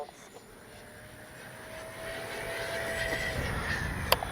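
An E-flite 70mm Viper RC electric ducted-fan jet whines in flight, a thin steady tone rising into a louder distant rushing roar, with no voices.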